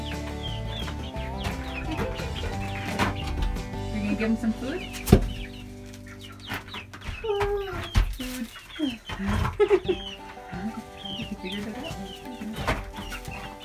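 Chickens cluck and murmur nearby while adults and someone talk over them, with occasional rustling and bumps.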